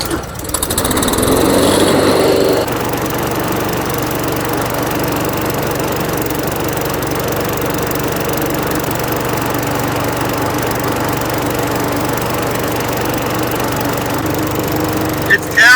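A petrol lawn mower engine runs after being primed and started, a loud, close, steady buzzing drone with a brief louder surge at first, then settling to an even run.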